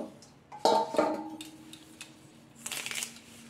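Neem leaves sorted by hand on a surface, with soft rustling and light clicking handling sounds in short bursts, close and quiet.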